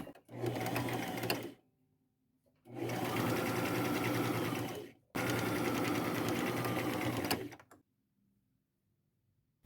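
A sewing machine stitches through folded floral fabric in three sustained bursts, the first short and the next two longer, separated by brief pauses, running alone and close.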